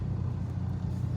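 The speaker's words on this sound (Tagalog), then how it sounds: "Ay, sasakyan o." A car passing nearby gives a steady, fairly loud low engine rumble that holds for about a second, with no voices over it.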